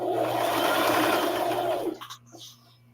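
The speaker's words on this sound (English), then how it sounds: "This is my first time sewing with black thread." Sewing machine stitching with black thread, a close, steady mechanical whir that runs for about two seconds, then stops, leaving quiet clicks and a low hum.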